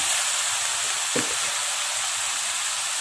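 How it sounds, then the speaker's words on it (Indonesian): Young jackfruit tipped into a pan of cooked rendang spice paste, giving a short wet thump and crackle over a steady, fairly loud sizzle of frying that carries on evenly. "Selanjutnya di sini kita masukkan yaitu sayur nangka."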